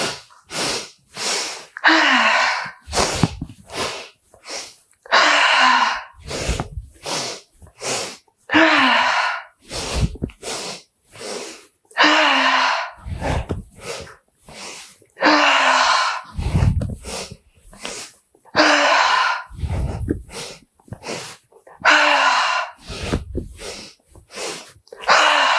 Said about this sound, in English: We will just take 1 inhale through nose and exhale through mouth to release.